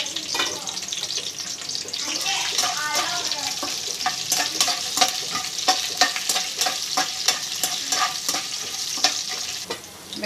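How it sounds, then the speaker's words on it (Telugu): Chana dal, urad dal and mustard seeds fry with green chillies in a pan for wamu rice, giving a loud, steady sizzle broken by frequent crackles and pops and the scrape of stirring. "పచ్చిమిరపకాయలు కొంచెం వేగాక శనగపప్పు, సాయమినపప్పు, ఆవాలు ఈ మూడు వేసి ఇవి కూడా వేగేంత వరకు కూడా వేసుకోవాలి బాగా"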